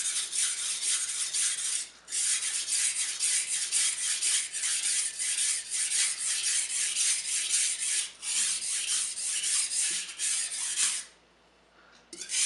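A kitchen knife is sharpened on a whetstone in long, steady, close-up gritty rasping strokes, broken by brief pauses between passes.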